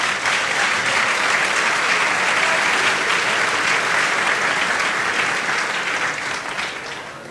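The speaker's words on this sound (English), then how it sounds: "we can applaud a bit." Sustained applause from the audience at the Formula Student Germany 2009 business plan presentation finals, thanking the judges. The clapping is steady, dense and fairly loud throughout, easing only slightly near the end, with no voices over it.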